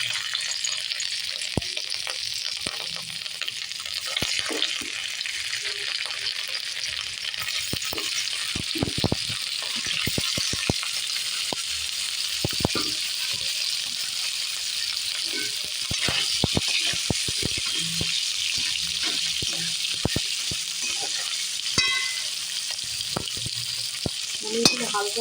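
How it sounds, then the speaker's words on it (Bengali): Paneer cubes crackle and sizzle in hot oil for a matar paneer dish, a steady bright frying hiss with frequent sharp pops and occasional stirring clinks, close and continuous throughout. "তেলটা গরম হয়ে গেছে, এবার পনিরগুলো এর মধ্যে দিয়ে দেব।"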